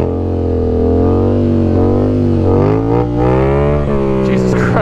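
A Yamaha MT-07 motorcycle engine revs hard as the throttle is worked, a loud, close, rising and falling drone with shifting pitch, and a brief dip where the throttle eases off.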